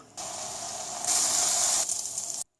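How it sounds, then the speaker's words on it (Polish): Bacon is gently fried in a pan to render off excess fat, giving a steady close sizzle that swells louder in the middle and then cuts off abruptly after about two seconds. "Teraz zajmiemy się boczkiem, którego delikatnie podsmażymy na patelni"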